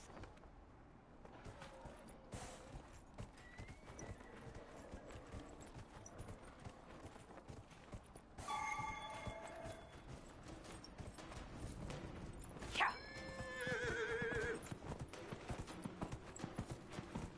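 Hooves of a horse in the Dragon Age: Inquisition video game clip-clop in a steady rhythm, with two bright neighs breaking through midway and near the end, all fairly quiet.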